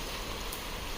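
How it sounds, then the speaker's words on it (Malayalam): Evening rain falls in Cherrapunji, Meghalaya, as a soft, even hiss of drops on surfaces, quiet and continuous with no speech. "ചിറാപുഞ്ചിയിൽ മഴ."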